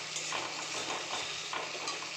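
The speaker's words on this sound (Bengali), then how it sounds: "এগুলোকে আমি একদম কষিয়ে নেব।" Egg curry spices stirred and fried in hot oil in a pan, a soft continuous sizzle with repeated scraping strokes of a spoon, fairly quiet and close, with no voices.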